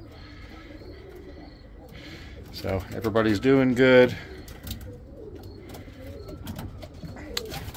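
Pigeons coo in a loft of breeding stock birds, a soft rolling run of coos rising near the middle of the clip over faint background bird sounds, with someone speaking briefly.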